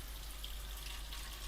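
Water poured or run from a tap into a pan of cooking vegetables for a Bolognese, a steady soft broadband hiss that stays even and fairly faint for the whole short moment, with no voices.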